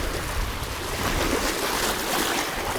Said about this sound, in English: Let's give it a little rinse.